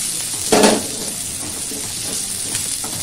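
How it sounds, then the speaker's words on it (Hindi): Onion being lightly sautéed in a pan for a vegetable stir fry: a faint, steady sizzling hiss with a brief clatter of utensil against pan near the start. "प्याज डाल के और थोड़ा सा हल्का सौते कर रहा हूँ"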